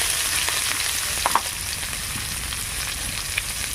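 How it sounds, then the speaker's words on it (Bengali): Onion and five-spice fry in fish oil, a continuous close crackling sizzle with a few brief pops and light stirring knocks, no voices over it. "মাছের তেলে পাঁচফোড়ন দিয়ে আর পেঁয়াজ দিয়ে ভাজলে খুব সুন্দর গন্ধ হয়"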